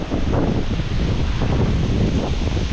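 Wind blows steadily outdoors in the Alpine mountains, a continuous broadband roar and buffeting against the microphone with no pauses, loud and close throughout.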